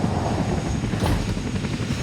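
A helicopter's rotor and engine rumble, a steady low droning throb that stays loud and constant throughout, with no voices.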